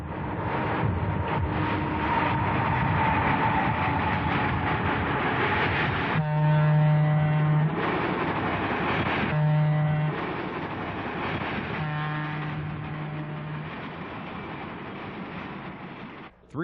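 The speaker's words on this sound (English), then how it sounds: "we see train number 149, the Afternoon Keystone, rolling by on the opposite track" Amtrak train number 149, the Afternoon Keystone passenger train, rolls past on the opposite track, a loud sustained rumble of wheels and engine with steady tonal drones swelling and fading in several long stretches.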